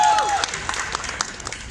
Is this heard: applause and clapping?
yes